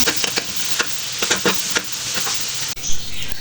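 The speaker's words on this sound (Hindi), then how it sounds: "अब मैं जो ऑयल मैंने लिया इसमें डाल के मैं इसको हल्का हल्का सा गोल्डन ब्राउन कर दूँगी" Grated garlic sizzles and fries steadily in hot oil, with a constant close crackle broken by louder bursts of spatter and stirring scrapes throughout.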